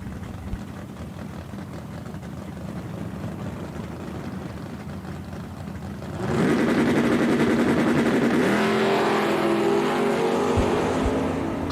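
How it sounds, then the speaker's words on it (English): Camaro and Mustang drag racing at Eddyville Raceway, a low engine rumble that jumps into loud, sustained full-throttle roaring partway through as the cars launch, with rising engine tones continuing to the end. "Camaro taking on the Mustang."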